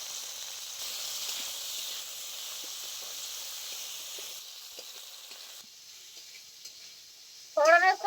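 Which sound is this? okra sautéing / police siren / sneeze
okra sautéing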